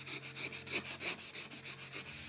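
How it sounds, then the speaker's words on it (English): Sandpaper scrubs rust off the blade and teeth of an old hand saw in quick, even back-and-forth strokes, about a dozen rhythmic rasping passes, close and clear with no talking. "With this sandpaper, as you can see, I'm coming much closer up to the teeth, and I'm actually going right over the teeth here."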